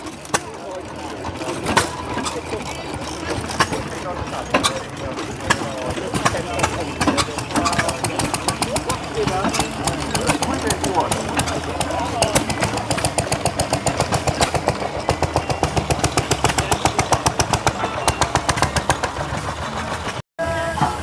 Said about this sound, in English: The stationary engines are alive.